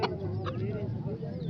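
At a poultry market, an Aseel rooster gives short, close clucks over a dense background of market chatter and crowd noise.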